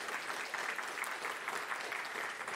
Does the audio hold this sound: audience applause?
yes